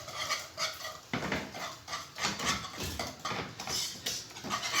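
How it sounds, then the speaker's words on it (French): Pastry cream being stirred nonstop in a pot as it thickens, a steady scraping and knocking of a utensil against the pan in quick, uneven strokes, close and moderately quiet. "Là, on mélange sans arrêt."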